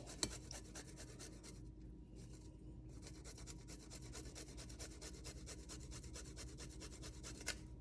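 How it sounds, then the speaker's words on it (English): Fresh ginger is grated over a bowl on a microplane. The result is a soft, close, continuous run of rapid scratchy rasping strokes with a brief pause partway through. "So I have my microplane right here, and I'm just going to take it and grate it over this bowl"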